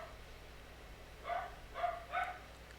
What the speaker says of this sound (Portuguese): O cachorro aí, né?